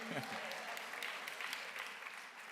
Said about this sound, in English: why can't you applaud a little bit better than that?